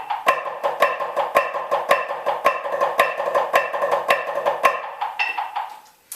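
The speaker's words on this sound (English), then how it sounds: "which is just 4 Flam accents, followed by a measure of Flam drags" Snare drum playing a steady run of four accented flam strokes, then a denser measure of flam drags, crisp and close, ending with a final hit.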